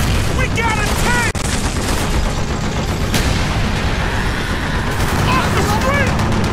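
Dense, loud gunfire rattles almost without pause in the Call of Duty: Black Ops video game, with bursts and heavy booms layered over a street battle and radio voices speaking underneath.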